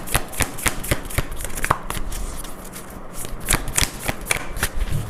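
Tarot cards being shuffled in the hand, a quick run of crisp riffling snaps and flicks, close and fairly loud, with no speech over them.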